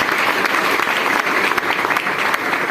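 A large audience at a motivational speech claps in dense, continuous applause that stays loud and even throughout, with no talking over it.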